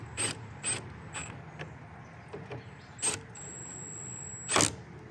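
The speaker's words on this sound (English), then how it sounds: "Snug those bolts back up." Bolts being snugged back into the plastic mounts of a Subaru Impreza radiator, heard as a handful of short ratcheting clicks and metallic ticks spaced irregularly over quiet background, close and fairly faint.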